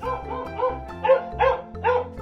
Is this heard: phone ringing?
no